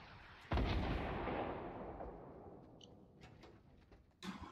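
A single loud, close gunshot booms out in the video game Fortnite, then rings away into a fading tail. A few faint clicks follow, and a softer shot lands near the end.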